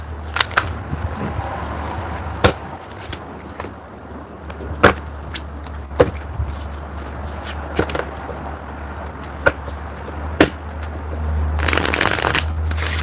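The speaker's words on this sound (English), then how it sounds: "One more shuffle." Repeated riffling and snapping of tarot cards being shuffled, close and crisp, in irregular bursts against a quiet hum, ending in a longer rustling shuffle.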